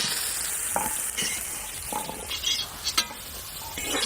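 Vegetables with peas and tomato sizzling in hot oil in a pan, with a spatula scraping and clinking against the pan in several bursts over steady frying hiss.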